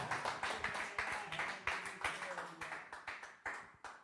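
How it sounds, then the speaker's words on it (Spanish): Church congregation clapping together during a sermon, a fairly quiet run of rhythmic, slightly uneven claps repeating in waves over a few seconds. "¿Cuántos le dan un aplauso a esa palabra?"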